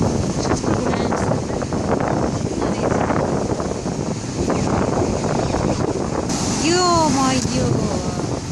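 Stormy Black Sea surf pounding the shore at Lazarevskoye beach, a steady roar of breaking waves mixed with heavy wind buffeting the microphone, with a brief whistle-like cry near the end.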